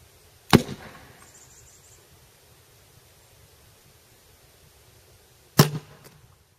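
A homemade PVC rocket cannon fueled with ignited hairspray fires twice, each a sudden sharp whoosh-bang followed by a short hissing tail, about five seconds apart against quiet outdoor background.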